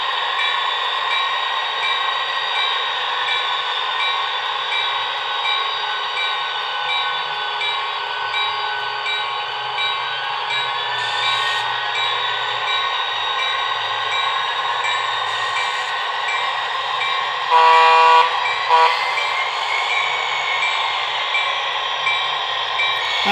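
Two BLI PRR E7 model diesel locomotives fitted with TCS WOW sound decoders hum with a steady droning engine sound, a continuous mid-pitched rumble that holds level throughout, with a brief horn-like tone near the end.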